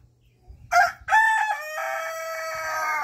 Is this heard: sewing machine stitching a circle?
no